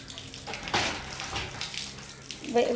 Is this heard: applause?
no